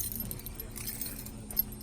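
Car keys for a used Nissan Titan pickup jingle and clink softly in a short, faint burst of metallic rattling, with one brief brighter clink near the end and no voices.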